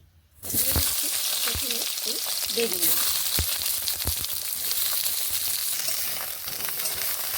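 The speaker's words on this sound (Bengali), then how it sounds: "বেগুনগুলোকে এইভাবে নেড়ে আমি ভেজে নিচ্ছি" Eggplant pieces sizzle steadily in hot oil in a kadai for a vegetarian winter-vegetable dish, with occasional scraping clicks as they are stirred, close and fairly loud throughout after a brief quiet start.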